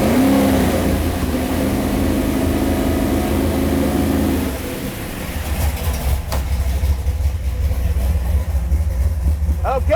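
A car engine revs to a held higher speed during a battery load test, a steady droning hum for several seconds before dropping back to an idle, with a few clicks and rattles toward the end.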